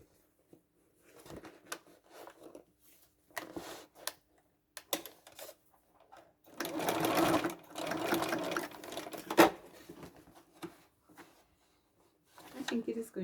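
A sewing machine top stitching a red velvet tote bag, running in short bursts with a longer continuous run in the middle, close and moderately quiet, with pauses and small clicks between runs.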